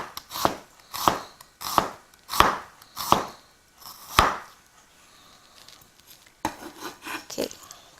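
A knife chops an onion on a cutting board in a home cooking setting, giving six crisp, evenly spaced thuds up close, a brief pause, then a quicker run of lighter cuts.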